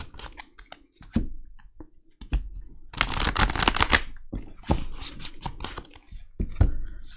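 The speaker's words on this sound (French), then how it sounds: "Je prends une carte de l'oracle du cercle." Oracle cards shuffled and drawn by hand close by, with a dense burst of riffling and sliding at mid-clip amid scattered crisp taps and flicks; no talking.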